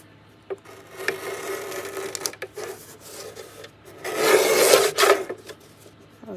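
A paper cutter trims a thin strip off a crafting sheet with scraping, rubbing strokes, rising to a louder rasping slide near the end, close and alone.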